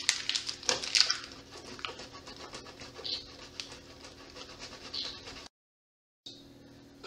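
A dog pants close by in a home kitchen during baking, with quick rhythmic breaths, scratchy claw shuffles and small knocks, then a brief silent gap before the noise resumes.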